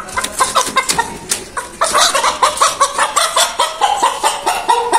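Aseel roosters calling and clucking in a yard among a group of chickens, with repeated loud fowl cries close by and a lively, busy chorus of birds throughout.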